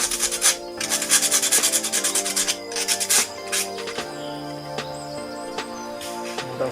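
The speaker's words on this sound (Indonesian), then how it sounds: "amplas kayak halus ini" Rhythmic rasping strokes of sandpaper rubbing a coconut shell, quick back-and-forth passes in bursts, close and loud, with background music underneath.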